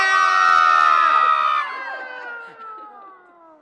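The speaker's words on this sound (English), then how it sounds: "we're gonna do the scream of birth" A group of performers lets out a collective scream together, loud and close, many voices holding a high, piercing cry before trailing off into fading shouts.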